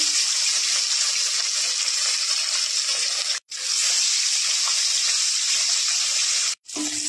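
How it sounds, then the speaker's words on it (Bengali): Rohu fish pieces frying in hot mustard oil in a kadai, a loud, steady hissing sizzle filling the clip, broken by two brief silent gaps. "আমি কড়াইতে সরিষার তেল নিয়ে নিচ্ছি মাছ ভাজার জন্য"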